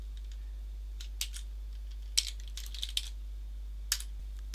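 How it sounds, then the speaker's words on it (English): Scattered keystrokes on a computer keyboard while entering a PowerShell command at the command line, a few clicks and short bursts of taps over a quiet low hum. "type that in at the command line"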